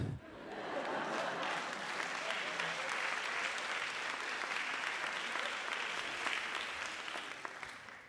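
An audience at a Portuguese stand-up comedy show breaks into applause, building quickly into sustained, full clapping that holds evenly and then tapers slightly near the end.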